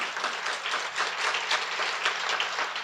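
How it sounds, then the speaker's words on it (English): Audience applause fills a banquet hall at a volunteer awards ceremony in Memphis, a steady wash of many hands clapping throughout, heard alone without talk. "So that is worthy of an applause in itself."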